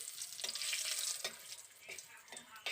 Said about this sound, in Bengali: প্রথমে তেজপাতা শুকনো লঙ্কাটাকে ভেজে নিচ্ছি